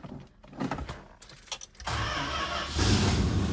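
A 1967 Plymouth Fury III engine firing up for the first time in 15 years: clicks and cranking give way to the engine catching and settling into a steady, rising idle, recorded up close.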